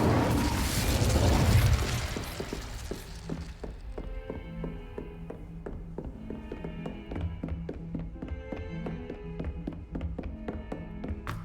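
Incendio fire spell cast in Hogwarts Legacy: a loud fiery whoosh and burst for the first two seconds, then fading into steady game music with rhythmic tapping.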